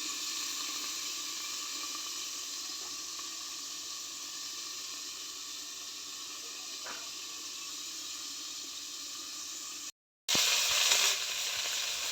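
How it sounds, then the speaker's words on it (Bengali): Vegetables sizzle steadily while frying in a pan, a continuous close hiss that breaks off for a moment and then comes back louder and brighter. "ভালো করে সবজিগুলো ভাইজা নেব"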